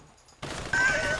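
Burst of gunfire in the video game GTA Online, a sudden loud volley cutting in after near silence and holding steady to the end.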